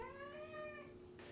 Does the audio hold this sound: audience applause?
no